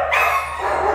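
Puppies in their kennels barking and yipping loudly and close by, a dense overlapping burst of high-pitched barks.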